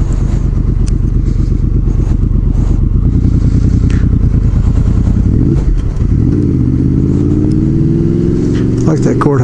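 A Suzuki GS motorcycle rides by on the road, its mid-pitched engine droning loud and close and then rising and shifting in pitch as it passes, over constant engine rumble while someone speaks.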